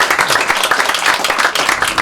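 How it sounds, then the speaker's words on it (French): An audience at an evening sports event in Chamonix claps for a climber, a brisk, close burst of dense applause that holds steady for a couple of seconds. "On peut l'applaudir"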